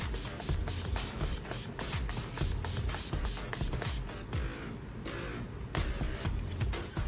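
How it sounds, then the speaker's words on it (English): Urban Decay All Nighter setting spray misted onto a face, a run of quick rhythmic pump spritzes, close and hissy, repeating steadily with a brief pause before the final bursts. "I'm gonna set my face using the Urban Decay setting spray"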